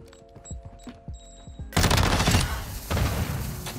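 A Tempus Razorback assault rifle in the video game Modern Warfare 2 fires in rapid, loud, close bursts. Sparse quieter shots and thuds come first, then a dense stream of automatic fire.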